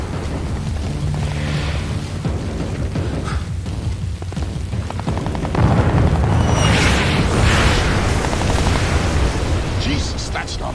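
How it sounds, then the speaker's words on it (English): Katyusha rockets explode in a barrage in Splinter Cell Blacklist, heavy booms and rumbling blasts that swell louder midway, with voices speaking over the chaos. "Jesus, that's not mortar fire. Sounded like Katushas."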